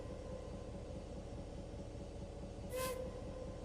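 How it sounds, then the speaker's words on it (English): Over a steady, low rumbling locomotive drone in Trainz Simulator 3, one short, sharp whistle blast rings out near the end, lasting well under a second. "it's just a short blast of the whistle"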